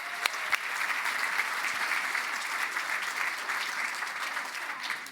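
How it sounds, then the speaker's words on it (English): A crowd breaks into full applause at a cooking presentation, dense clapping that holds steady and fairly loud from start to finish. "Give them a big round of applause."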